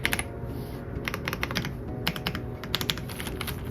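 Someone types on an Ajazz AK820 Pro mechanical keyboard fitted with pink jelly keycaps, producing close, crisp clusters of clacky keystrokes in uneven bursts with short pauses, over a faint background hum and with no talking.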